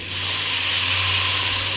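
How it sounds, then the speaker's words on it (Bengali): Water poured into a pan of frying potato and cauliflower curry sends up a loud, continuous steam hiss that holds steady and close. "সবজিটা আমার মোটামুটি ভাজা হয়ে গেছে এবার আমি জল দিয়ে দিচ্ছি"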